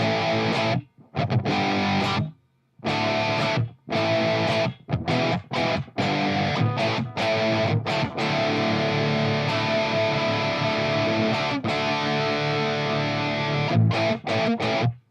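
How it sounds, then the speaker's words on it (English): Heavily distorted electric guitar playing dry, choppy chords and sustained notes with abrupt stops and no echo or reverb tail. "when I go to my distorted guitar tone, I shut the reverb off"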